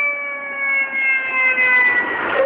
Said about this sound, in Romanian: Ia, hai că vin pompierii, hai.